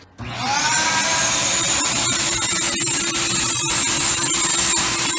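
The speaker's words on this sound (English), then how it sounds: "Now I'll show you how we do it with a homemade extractor like you would use at home with your shop vac and a bottle of water, hot water." A homemade carpet and cloth extractor built from a shop vac with a bottle of hot water runs loud and steady, its motor whine rising at the start and then holding a continuous roar with sucking noise throughout.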